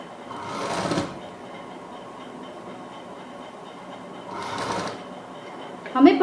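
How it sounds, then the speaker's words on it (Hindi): A sewing machine stitches down the middle of a fabric strip for a doll frock in two short bursts of rapid mechanical whirring, separated by a quieter pause, with a brief clatter at the end. "पट्टी के बीच में हमने सिलाई लेनी है।"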